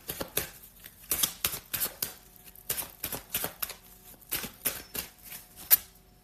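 Tarot cards are drawn and handled in a quiet room, giving a string of sharp, close papery flicks and snaps in an irregular rhythm with short pauses between them. No one speaks.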